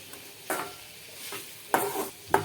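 A spoon or spatula tosses homemade wheat-flour pasta in a pan in four separate scraping, stirring strokes over a quiet sizzle, fairly close, with no voices.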